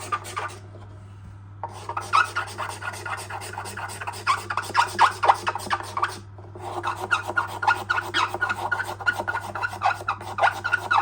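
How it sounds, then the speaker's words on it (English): A cabinet scraper works a plain-grained sycamore violin neck in long, steady rasping strokes, close and fairly loud, with a brief pause near the start and another around six seconds. "Let's move over to scraper for a bit."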